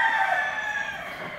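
A single young gamecock, about a year old, lets out one loud, close crow from its cage at a fighting-rooster breeding yard.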